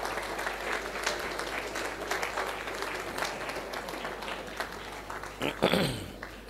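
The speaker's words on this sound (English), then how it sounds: "Let's give him a round of applause again" Applause from a gathered audience at a Mafukuzela Day event, steady dense clapping throughout with a louder swell near the end.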